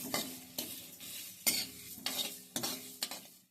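Spices dry-roasting over very low heat for a homemade vegetable masala blend, stirred in a pan in repeated scraping strokes, about five bursts with a faint sizzle between them, close and fairly quiet.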